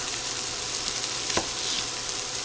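Diced bell peppers sizzle steadily in a hot pan as a Philly cheesesteak pasta casserole gets started, a close, even crackle with one brief sharper pop midway and no talking.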